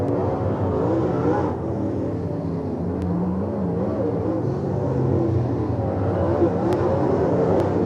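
Race cars roaring through the final lap at Lincoln Speedway, a continuous dense engine drone with shifting revs from several cars passing on the dirt oval, loud and steady without clear voices.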